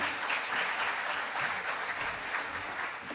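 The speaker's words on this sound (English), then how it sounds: "let's please do give them a round of applause." Sustained audience applause at a talk event, steady dense clapping from a large crowd throughout, evenly loud with no speech over it.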